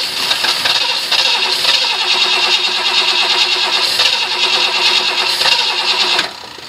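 A 1971 Ford LTD engine that sat unused for six years fires up and runs loud and close with a rough, steady mechanical roar and rattle for about six seconds, then drops off abruptly.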